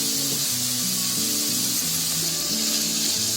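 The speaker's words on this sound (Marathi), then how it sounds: "आता फुल गॅस करून आहे ना चांगलं जरा 2 मिनिटं असं परतवत राहायचं" Capsicum strips with half a spoon of ginger-garlic paste sautéing in butter over full heat, giving a steady, loud broadband sizzle throughout with low music underneath.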